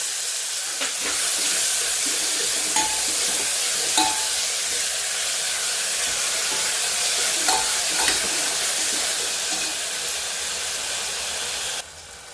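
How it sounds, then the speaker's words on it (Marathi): Onion and tomato with salt frying in a pan, a continuous loud hissing sizzle held steady throughout, with occasional light clicks of a utensil against the pan, close and without talk, cutting quieter at the very end. "कांदा टमॅटो आपला पटकन भाजला जातो"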